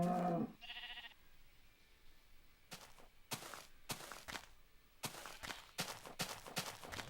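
A cow in the video game Minecraft gives a short, lowing moo right at the start, followed by a series of sharp game thumps and footstep-like taps spaced across the rest, all fairly quiet.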